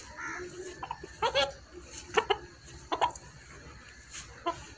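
A fighting rooster gives short, sharp clucks and squawks in uneven bursts while someone holds it and works its wings to stretch the muscles. The calls are close but fairly quiet, with a faint background hum.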